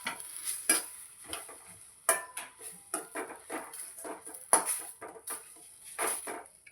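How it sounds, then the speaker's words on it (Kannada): Green chillies fry in a pan while a spatula stirs and scrapes, giving repeated close clinks and scrapes over a faint, quiet sizzle, with no voices. "ಚಂದ ಫ್ರೈ ಮಾಡ್ಕೋಬೇಕು ಎಲ್ಲ ಮೆಣಸಿನ್ಕಾಯಿ ಅವೆಲ್ಲ"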